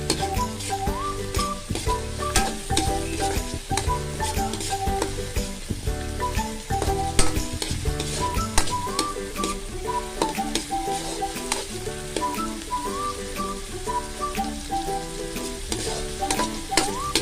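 Squid stirred in a pan with tomatoes and carrots, steady sizzling and scraping of frying food close up, with continuous stirring over a busy, dense background of tonal music.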